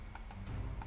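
Quick computer mouse clicks while playing Habbo Hotel, a few light taps close to the microphone at low volume.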